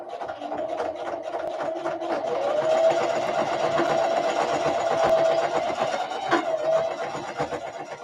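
A sewing machine stitches fabric bags, giving a close, steady mechanical whir with a fast rhythmic clatter of the needle that grows slightly louder in the middle before easing off.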